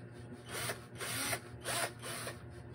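A Makita cordless drill set to drill mode whirs in three short, close bursts separated by brief pauses, with a faint steady hum underneath and no talking.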